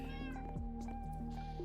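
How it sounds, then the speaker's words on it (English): A pet cat meows several times close by, its clear, tonal cries sitting over a steady electronic hum and some faint background sound. "That's my cat."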